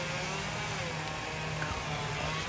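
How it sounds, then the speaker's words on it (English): A chainsaw drones steadily at a moderate distance, its engine pitch wavering slightly, with no voices over it. "this guy with the freaking chainsaw or whatever he's doing is really starting to annoy me"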